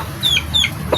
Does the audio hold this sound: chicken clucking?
yes